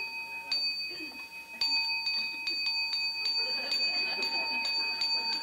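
A small bell struck again and again at an uneven, fairly quick pace, each clear ring sustaining over steady background hiss during a Buddhist monk's Dharma question-and-answer talk.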